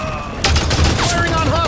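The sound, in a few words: gunfire in Halo 5 Guardians video game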